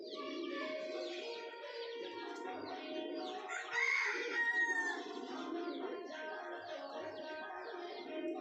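Chickens cluck and crow steadily while feeding outdoors among pigeons, a dense layer of overlapping fowl calls with one louder, close crow-like burst partway through and no talking.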